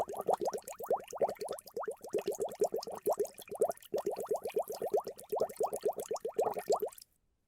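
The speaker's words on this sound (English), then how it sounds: "let's fill the radiator" Antifreeze glugs into a car radiator during a vehicle repair video game, heard as a steady, close run of rapid bubbly plops and gurgles lasting about seven seconds with a brief break midway, then abrupt silence.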